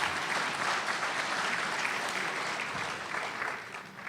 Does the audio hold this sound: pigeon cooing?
no